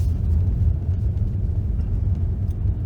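A Mazda CX-30 engine pulls in second gear up a steep, snowy hill, a steady deep low rumble heard from inside the cabin, close and continuous with no voices over it.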